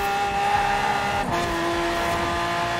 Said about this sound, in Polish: zobaczymy, ile maksymalnie osiągnę tym Lambosem